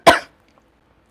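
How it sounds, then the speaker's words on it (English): A single sharp cough, close and clear, followed by near silence with faint small noises. "I'm well, but I'm still coughing a little bit."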